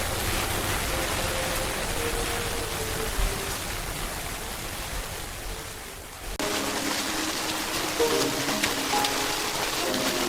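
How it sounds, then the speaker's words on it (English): Steady rain falling in an AI-generated anime scene, a dense continuous hiss of drops with a brief dip and abrupt shift partway through, loud and close with faint tones underneath. "Okay, so it starts with the rain."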